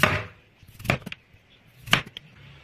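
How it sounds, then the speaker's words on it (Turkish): Knife cutting through three large potatoes into medium-thick slices, a few distinct chopping thuds spaced about a second apart against a board, close and clear with no talk. "Bunun için ilk önce patateslerimi bu şekilde, yani çok ince olmayacak, çok da kalın olmayacak şekilde bu şekilde kesmeyle başlıyorum"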